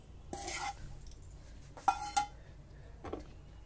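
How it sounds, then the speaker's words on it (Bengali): Roasted semolina poured from a hot nonstick pan into a bowl, a few soft scraping clinks and rustling pours spaced across a quiet kitchen, close but faint. "সুজিটা ঢেলে রাখছি।"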